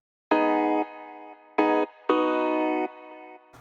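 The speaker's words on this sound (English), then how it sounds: "it is a Nexus piano with just a bunch of phaser on it" A Nexus piano with heavy phaser and a very short release plays three chords, held, short, then long. Each chord sweeps and shimmers slightly and cuts off abruptly into silence, somewhat quieter overall.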